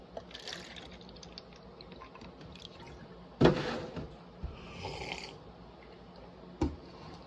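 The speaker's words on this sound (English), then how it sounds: "we're gonna pour our milk here." Milk pours and drips at close range with a few sharp clinks and taps, fairly quiet, with no one speaking.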